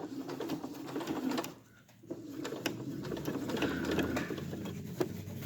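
A sewing machine topstitching the seam of a lined tabard runs as a steady, fairly soft mechanical whir, stopping briefly before it starts again and continues evenly up close.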